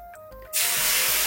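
Ragi dosa batter sizzling as it hits a hot pan: a quiet stretch, then a sudden loud, steady hiss that carries on to the end.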